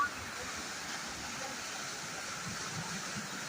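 Floodwater of a swollen river rushes past in a steady, broadband roar, close and continuous with no breaks, at a point where people are crossing the dangerous torrent.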